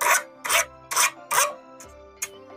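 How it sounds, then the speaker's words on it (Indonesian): A hand file rasps across cut aluminium in four even back-and-forth strokes, followed by a couple of lighter scrapes; close and fairly loud over a faint background hum. "Anda juga bisa memakai kikir seperti ini."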